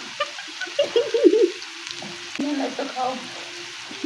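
Flat beans (sim bhaji) fry in a pan with a steady soft sizzle, joined by a few brief louder bursts, while faint background noise runs underneath.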